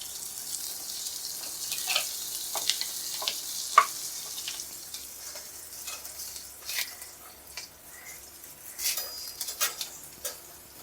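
Green chillies fry in chicken gravy with a soft, steady sizzle, broken by stirring scrapes and small clinks at close range.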